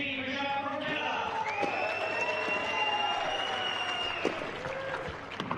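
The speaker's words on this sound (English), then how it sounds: "Please give a big round of applause to Eugenie Bouchard from Canada." Spectators at a women's tennis match at the Hobart International applaud Eugenie Bouchard in a steady, dense wash of clapping, with an announcer speaking over it.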